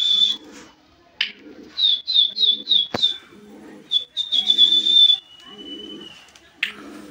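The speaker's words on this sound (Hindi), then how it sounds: "कबूतर चला गया, एक कबूतर आया हुआ था" A pigeon at a keeper's loft coos in a run of soft, low, repeated phrases, close by, with brighter chirps from another bird scattered over the top and no talking.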